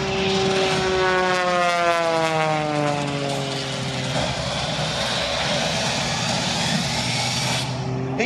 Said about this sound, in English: An aircraft kept in the air by champion engine components.